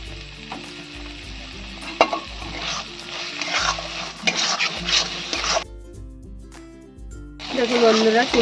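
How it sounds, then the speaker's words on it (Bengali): Prawn stuffing for potoler dorma, stuffed pointed gourd, sizzles in oil in a pan while it is stirred and sautéed, with bursts of frying hiss and scraping utensil clinks; a voice talks over parts of it. "দিয়ে ভালো করে আমি নেড়ে নেব দিয়ে আরও কিছুক্ষণ আমি কষাবো অল্প তেল দেবো"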